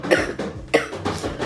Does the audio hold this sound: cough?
yes